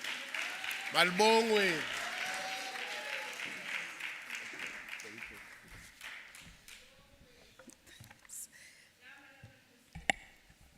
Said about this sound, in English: Shall we then give a round of applause to our acting premier?